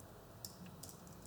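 Soft, quick taps on a computer keyboard, a few light clicks in a short burst, faint and close against a quiet room hiss.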